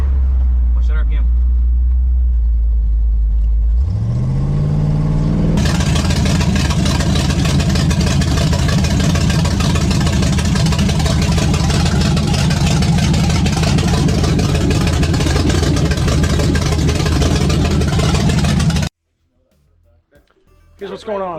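1965 Ford Mustang with a 347 stroker small-block V8 starting up, then settling into a loud, close, steady rumbling idle for about thirteen seconds before shutting off abruptly. Voices come through faintly at the end.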